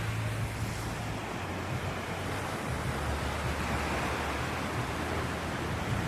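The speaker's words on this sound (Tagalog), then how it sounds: "Ayan o, padating na yung alon." Ocean waves roll onto the shore in a continuous broad wash of surf, steady and moderately loud, with wind buffeting the microphone.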